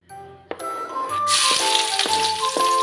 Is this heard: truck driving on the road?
no